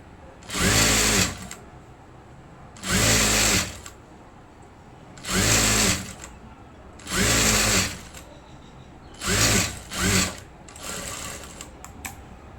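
A sewing machine stitches the back part of a blouse in six short, fairly close whirring runs, each lasting about a second, separated by pauses, with the last run softer.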